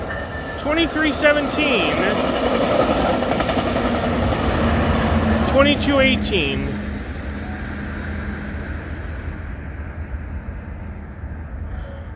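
A VIA Rail passenger train rolls past a trackside station in Cobourg, Ontario at night, its steady wheel rumble filling the first half, with two bursts of squealing screech before the noise settles; people speak briefly over it.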